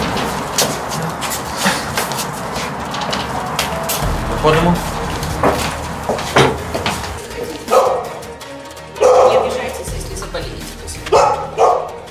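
A dog barks repeatedly in a deputy's home entryway, several loud bursts mixed with people talking nearby.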